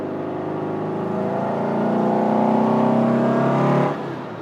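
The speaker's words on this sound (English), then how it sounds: "It's riotous, that exhaust." Revised Porsche 912C classic hot rod exhaust revving loudly and close, a steady rising engine roar that swells and holds for several seconds before cutting off abruptly.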